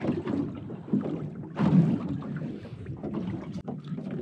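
A small fishing boat moves on the sea off Busselton in a light breeze, with steady close wind buffeting and water wash and no talk.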